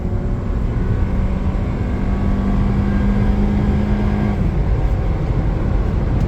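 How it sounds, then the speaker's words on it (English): A Honda Element AWD with a 160-horsepower engine accelerates onto a highway, giving a steady loud engine and road roar with a rising engine tone that fades after a few seconds. "Let's put all 160 horses to use and get this little brick up on the highway"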